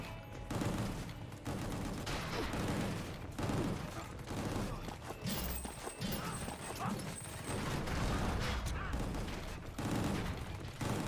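Enemy gunfire in the video game Gungrave G.O.R.E, a dense, continuous clatter of rapid shots layered over game music and effects, loud and steady throughout without a break.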